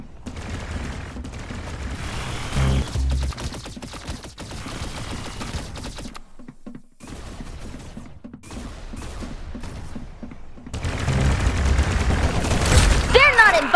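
Gunfire from the Roblox-style shooter Arsenal crackles in rapid bursts throughout, fairly loud, with a voice talking over it and a brief dip into near silence midway.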